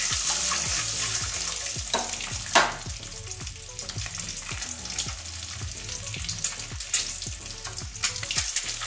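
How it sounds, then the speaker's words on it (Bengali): Duck eggs fry in hot oil in a wok, a steady close sizzle with repeated spatula scrapes and stirring clinks throughout, no voices. "ডিম কটা ভাজা হয়ে গেছে"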